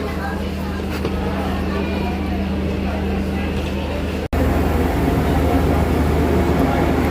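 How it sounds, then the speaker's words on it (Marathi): A Vande Bharat Express train pulls through Chhatrapati Sambhajinagar station with a steady, loud rumble and rolling noise. The sound continues throughout, growing slightly louder after a brief cut partway through. "ट्रेन चालली आहे."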